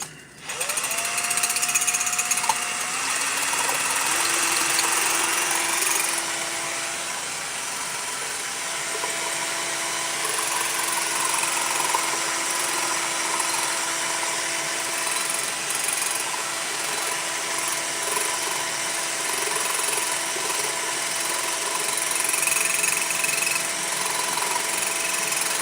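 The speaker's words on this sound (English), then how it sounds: "this is how we blend eggs, right? Power tools." A power tool drives a whisk through eggs in a bowl, a loud, steady mechanical rattle that runs continuously without pause. No one speaks over it.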